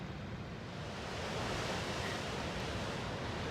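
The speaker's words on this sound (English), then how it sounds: "let's go back to enjoying the rough seas" Rough Pacific Ocean surf roars in a dense, continuous wash of crashing waves, loud and close, building slightly after the first second with wind buffeting the microphone and no voices.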